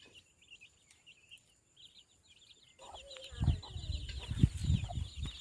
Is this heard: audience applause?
no